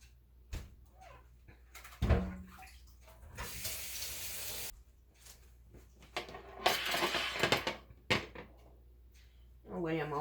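Green grapes rinsed under a running kitchen faucet, with bursts of splashing water broken by pauses, a clink and some nearby talk.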